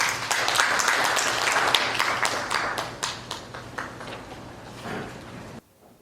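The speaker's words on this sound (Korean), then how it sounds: "박수로 무대를 모시겠습니다." An audience at a university liberal education workshop applauds to welcome a keynote speaker, a full burst of clapping that thins into scattered claps before stopping abruptly.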